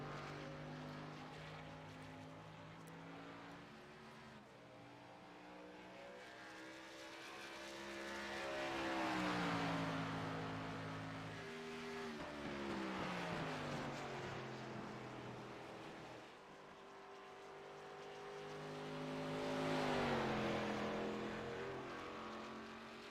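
Race cars roar past on an oval track at the Gateway 150 under green-flag racing, engines swelling and fading in repeated drive-bys with Doppler pitch drops, two loud passes standing out over a steady background of cars circling.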